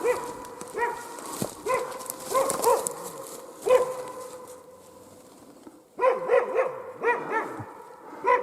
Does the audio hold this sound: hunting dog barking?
yes